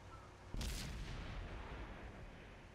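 A single sharp video game gunshot in Counter-Strike bursts out and rings into a long rumbling tail over a steady background hum.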